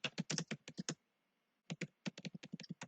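Typing on a computer keyboard, rapid close clicking keystrokes in two quick bursts separated by a short pause, quiet overall with no voices.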